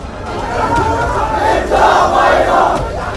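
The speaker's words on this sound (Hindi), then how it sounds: "एक साथ हजारों लोगों की भीड़ सड़कों पर मौजूद थी" A massive crowd of thousands packs the streets of Srinagar, producing a loud, continuous roar of many voices with rising shouts and swells, dense and sustained throughout.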